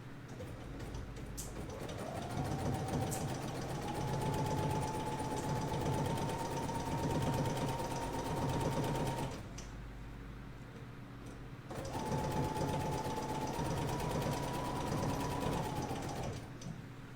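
A Bernina sewing machine stitches binding onto fabric in two steady runs of rapid mechanical whirring, close and even, separated by a brief pause.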